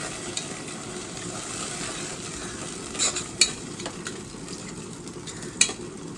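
Masala stirred and frying in coconut oil for beef biryani: a steady soft sizzle with occasional scrapes and clinks of a spoon against the pan, close and moderately quiet.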